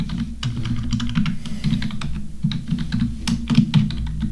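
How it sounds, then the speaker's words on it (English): Rapid, steady typing on a computer keyboard while entering text into a design layout, the key clicks close and continuous over a low background hum, with no talking. "we're going to type something in here"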